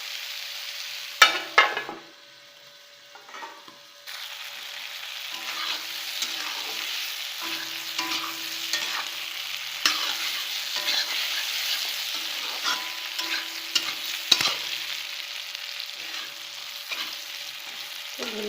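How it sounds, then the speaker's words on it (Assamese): Pork and bamboo shoot, cooked Assamese style, sizzle and fry in a pan over medium heat with no water added. A steady crackle runs through repeated scraping stirs, after a brief quiet moment near the start. "আৰু অলপ মই ভাজিম পানী নিদিয়াকৈ"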